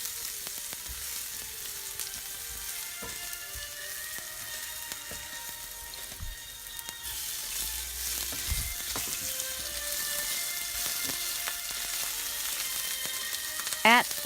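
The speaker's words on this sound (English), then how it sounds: "Put 1 tablespoon of grapeseed oil on high heat and add in the garlic. Stir until golden or slightly golden. Then add the shrimp." Shrimp and garlic frying over high heat in grapeseed oil, a steady loud sizzle broken by occasional clinks and scrapes of a utensil stirring in the pan.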